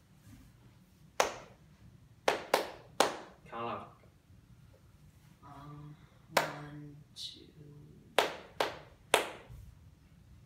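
Hands clap a short musical rhythm in a piano lesson: several sharp, close claps in small groups spread across the stretch, with a teacher talking between them.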